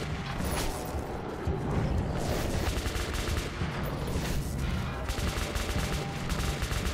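Rapid gunfire from a firearm in the video game Metro 2033 Redux, a dense, continuous clatter of shots running almost the whole time, loud and close, with crashes and mechanical noise mixed in.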